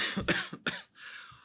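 Several harsh coughs in quick succession, close and fairly loud, followed by a short raspy throat-clearing breath.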